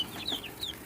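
Small Dominecker chicks in a brooder give a few high, thin peeps and soft clucks, close and fairly quiet, with two brief bright calls standing out over a low hum.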